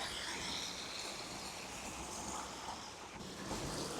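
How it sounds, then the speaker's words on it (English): A river in northeast England on a hot day flows in a steady, broad rushing wash of water that stays constant and moderately loud throughout, with no voices. "You can probably hear the river."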